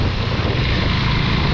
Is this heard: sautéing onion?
no